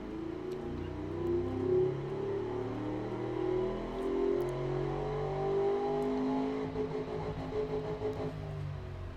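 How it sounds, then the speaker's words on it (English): A simulated V8 engine from a 1985 street car in the Automation car game runs steadily, its revs gently rising and falling with a throaty, continuous rumble and no voices. "Here's what the actual regular base engine that went into the street car sounded like."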